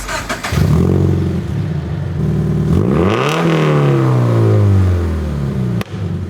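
A sports car's loud aftermarket Tomei exhaust revs repeatedly nearby, pitch sweeping up and falling back, with a sharp pop near the end.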